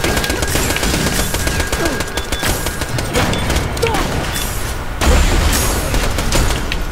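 Machine gun fire in the video game Borderlands The Pre-Sequel, loud, continuous rapid bursts layered with heavy booms that swell after five seconds, with no pauses throughout.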